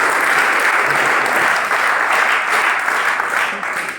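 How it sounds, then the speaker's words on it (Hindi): Children in a classroom clapping in a burst of applause for a fellow student, a dense, even patter that holds steady and fades slightly at the end. "हरिओम की बजाओ ताली"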